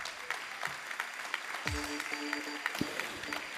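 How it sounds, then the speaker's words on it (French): An audience at the closing plenary of the TEPOS 2024 gathering applauds with faint, scattered clapping throughout, while a voice speaks over it. "je voudrais les applaudir"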